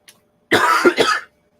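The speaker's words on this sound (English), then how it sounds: "I am coughing like crazy today" A person coughs in a short burst: one faint cough, a pause, then two or three loud, close, harsh coughs in quick succession, with no one talking.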